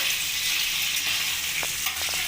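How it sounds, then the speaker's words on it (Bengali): Paneer cubes frying in hot oil as they are stirred, a steady, dense sizzle with a few faint scrapes and clicks of the spoon near the end. "এবার পনিরটাকে ভালো করে নাড়িয়ে ছাড়িয়ে আমি তুলে ফেলবো।"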